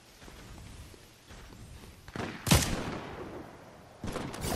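Fortnite gunfire comes as a couple of loud cracks in quick succession, with the sharpest near the middle and another burst near the end, over quieter game background.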